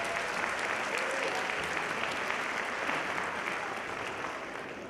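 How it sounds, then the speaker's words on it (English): An audience at the Upper Darby High School pops concert gives sustained applause. The thick, even wash of clapping holds loud throughout and eases slightly in the final second. "One more round of applause for them"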